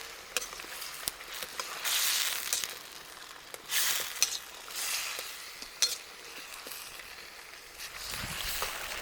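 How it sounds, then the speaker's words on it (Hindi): Chicken fries with garlic ginger paste in a karahi during village cooking, a quiet sizzle rising and falling as a utensil stirs and scrapes in occasional sharp clicks. "अब हम इसके अंदर डाल देते हैं लहसुन अदरक का पेस्ट, 2 खाने के चमचे भर भर के, और इसको मज़ीद फ्राई करते हैं।"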